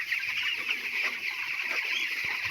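Chickens murmur and cluck steadily inside a poultry farm shed on a cold, foggy morning, a dense continuous flock noise with no distinct single calls standing out.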